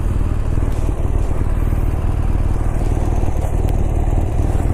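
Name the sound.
BMW R1200RT motorcycle engine while riding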